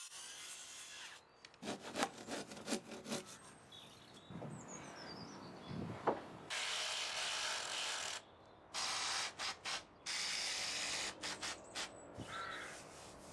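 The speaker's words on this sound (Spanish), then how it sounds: "puedo cortar por la línea de corte" Handsaw cutting along a marked line on a wooden header beam for a cat enclosure frame: repeated rasping back-and-forth strokes, close and loud, in long steady runs with short pauses, plus some bird calls in the background.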